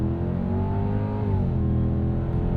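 A 1998 Lexus GS 400 launches hard from a standstill with traction control off, its engine droning loudly from inside the cabin and rising steadily in pitch as it pulls through the revs, with no talking.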